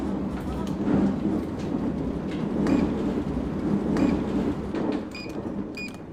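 Interior of a Korean KTX bullet train at speed: a steady, moderate rumble and hiss of cabin noise runs throughout, with faint high clicks and chimes near the end.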